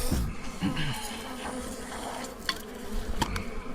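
Bees buzzing steadily near at hand around a weedy nest of killer bees, a dense droning hum with occasional sharper clicks and knocks.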